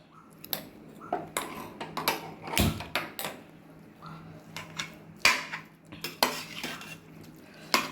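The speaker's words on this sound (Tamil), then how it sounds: "எல்லாத்தையும் போட்டுட்டே இப்போ கிண்ட போகிறோம்" Cooked kappa beef biryani being stirred in a pressure cooker: uneven metallic clinks, knocks and scrapes of a spoon against the pot, close and moderately quiet, with a faint low hum beneath and no speech.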